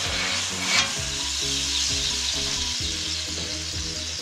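French dip meat sizzles loudly and steadily on a flat griddle while a spatula scrapes and shifts it, with one sharper scrape partway through.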